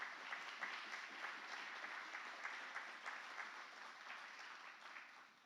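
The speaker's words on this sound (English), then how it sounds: "Let's have one more round of applause for all the award recipients." Audience at a 2023 annual conference awards ceremony applauding the award recipients, a steady wash of clapping from a crowd heard at moderate distance, slowly easing off.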